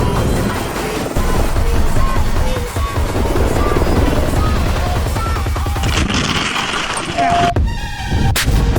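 Helicopter arriving for heli-skiing in snowy mountains, a loud, close rotor thump and engine roar with wind buffeting throughout.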